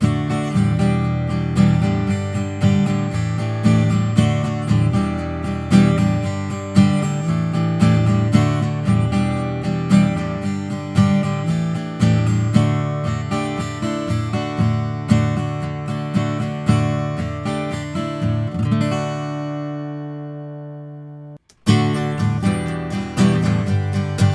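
Strummed acoustic guitar chords from an undersaddle pickup through an impulse response ring out loud and full, with a brief pause near the end before the strumming resumes.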